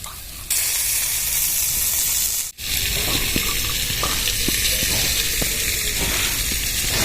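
Steady, dense sizzle of eggplant frying in hot oil in a wok, close up, with a brief break midway and faint stirring clinks over the constant hiss.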